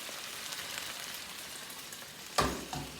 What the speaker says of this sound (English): It's frying up nicely.